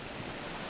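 Ocean surf ambience from the Bejeweled 3 Zen Mode video game, a steady broadband wash of waves with a windy rush, continuous and moderately loud.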